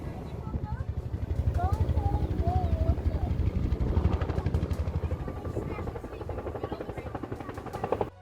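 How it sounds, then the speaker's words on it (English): A helicopter drones steadily overhead with a throbbing rotor pulse that holds across the whole stretch, a faint voice talking at moments beneath it. "You can hardly see the helicopter, but there he's going."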